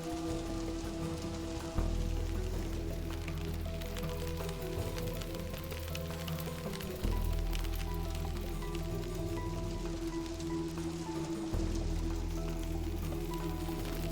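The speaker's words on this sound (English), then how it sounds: "So we're outside, and we hear the hail." Hail falls outside in the video game Book of Hours, a steady pattering rattle under a low droning game ambience, with soft thumps marking shifts in the background loop; no voices are heard.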